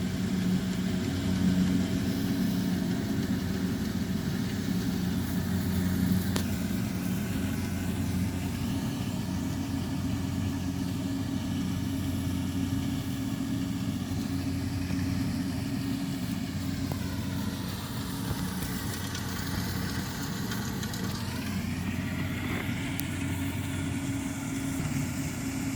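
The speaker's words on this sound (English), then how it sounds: "That's my tractor and trailer." A tractor engine idles steadily at middle distance, giving a continuous low rumble with a faint hum on top that runs for the whole stretch without a break or any voices.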